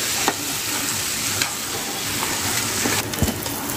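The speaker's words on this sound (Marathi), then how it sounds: "हे जे आपण तांदूळ, डाळ आणि त्यानंतर बटाटा जे घेतलेलं ना आपण, ते सगळं आपण यामध्ये घालून छान मिक्स करून घेऊया" Rice, dal and potato stirred and mixed in a pot for dal khichdi, a steady scraping stir over a soft sizzle with occasional spoon knocks, no talking.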